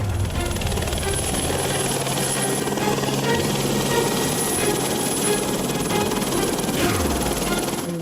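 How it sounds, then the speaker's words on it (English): A helicopter takes off close by, its rotor producing a loud, steady thudding drone with a whining engine tone throughout. "luckily enough, there's a helicopter just about to take off."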